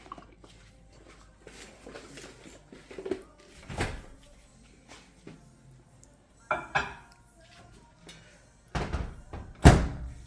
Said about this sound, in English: So let's get ready to put this in the microwave.